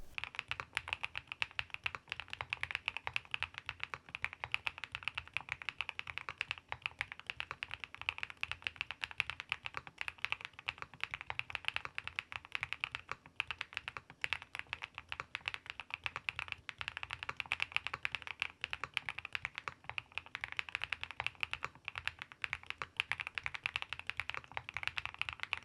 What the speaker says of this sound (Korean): 자, 그러면 타건 소리, 제일 기대되는 타건 소리 들어보도록 하겠습니다.